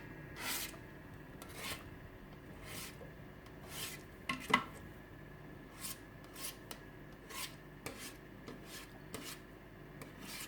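A spatula scraping down the bowl of a ThermoCook TC PRO M 2.0 kitchen cooker: quiet, irregular rasping strokes with a few sharper knocks against the bowl, close by, with no talking.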